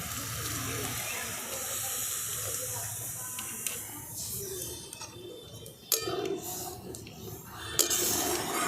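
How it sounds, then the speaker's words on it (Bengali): Milk pours into potatoes frying in ghee in a pan, starting with a strong steady hiss and sizzle that fades and turns quieter, with a few clicks and knocks. A voice talks at times. "এরপর দেখুন এখানে আমি নিয়ে নিয়েছি 1/2 লিটার দুধ। এটাকে আমি দিয়ে দিচ্ছি আলুর সাথে।"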